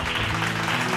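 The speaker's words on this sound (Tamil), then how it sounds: "கையை தட்டு." Hands clapping from an audience at a faith gathering, a dense continuous burst of applause throughout, fairly loud and close, with little talk over it.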